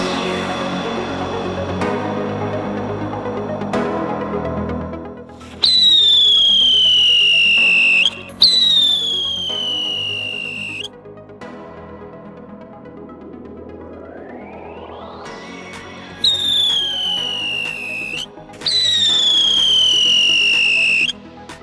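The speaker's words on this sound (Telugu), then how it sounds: "ఇప్పుడైతే వీటిని కాలుద్దాం అండ్ చూద్దాం ఎట్లా విజిల్ వస్తుంది" Whistling firecrackers go off in several loud bursts, each a shrill piercing whistle sliding downward in pitch, with a rising whine between them and crackling, fizzing noise in the quieter stretches.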